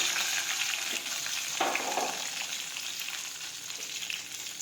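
Curry leaves and chopped green chillies hit hot oil in a pan, giving a loud, continuous crackling sizzle that holds steady throughout.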